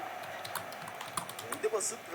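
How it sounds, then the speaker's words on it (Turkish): Keys on a computer keyboard clatter in rapid, uneven bursts during a PES 2021 football match, close and clicky, with a voice talking over the typing. "Bu ara abim de klavyeden en iyi oynayışını yapıyor."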